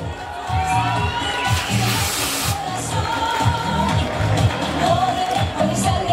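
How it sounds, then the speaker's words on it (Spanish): A large crowd at a Fiestas Patrias dance in Numarán, Michoacán, Mexico, cheers and claps continuously, a dense, steady wash of noise with shouts rising now and then. "Fuerte el aplauso, por favor."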